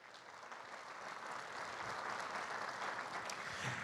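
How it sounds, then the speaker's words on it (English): Steady applause from an audience at a WSU leadership awards ceremony, dense and even, swelling slightly over a few seconds, heard fairly distant with no voices over it. "Round of applause to the Scholzes, please."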